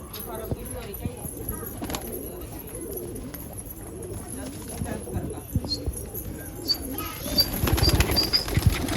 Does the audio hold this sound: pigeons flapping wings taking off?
yes